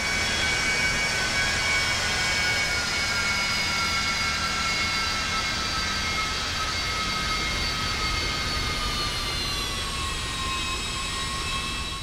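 Twin jet engines of a Cessna Citation II (S550) idle in X-Plane 11, a loud steady whine with high tonal turbine notes slowly sliding downward, no voices.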